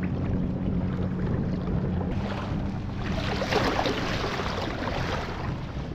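A fishing boat motors through an inlet at about 4.5 miles an hour, giving a steady engine drone with water rushing and wind noise, constant and close with no talk.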